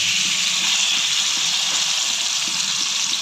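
Water poured into a hot pan of frying shrimp and boiled potatoes for a Bengali chingri bati chorchori gives a loud, steady hiss of steam and sizzle that holds evenly, close up, with no talking.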